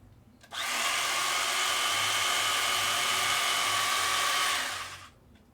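A power drill whirs in one steady, loud burst for about four seconds during cat couch assembly, spinning up sharply and winding down at the end, with no talking over it.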